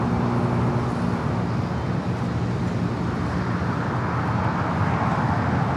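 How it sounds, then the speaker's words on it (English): A Boeing 777 cargo freighter sits lined up on a runway at LAX, its engines giving a loud, steady, broad roar that holds unchanged throughout, with no voices over it. "Cargo King lined up, the 777 freighter"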